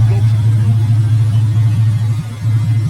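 A Lamborghini Murciélago idles with a deep, steady low engine drone close by, a few soft pulses of throttle rising over it as it begins to pull away.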